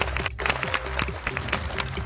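A crowd applauds Olympic athletes at an INSO foundation day rally in Rohtak, Haryana, in dense, continuous clapping that stays loud and steady throughout.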